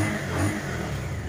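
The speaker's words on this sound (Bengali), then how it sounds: "ইঞ্জিনের সাউন্ডটা শোনাবো একটু?" A used motorcycle with about 17,000 km on it idles and revs briefly at a secondhand bike showroom in Bangladesh, a loud, steady, close engine drone.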